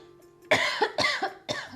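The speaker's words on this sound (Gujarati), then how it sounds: "જો હા ઉધરસ પણ આવી મને" Three loud, close coughs in quick succession, each a harsh burst after a brief quiet lead-in.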